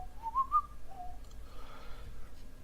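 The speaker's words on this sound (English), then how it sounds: "It's very nice whistle." A person whistles a short, rising melodic phrase, soft and close, then falls quiet over a low background hum.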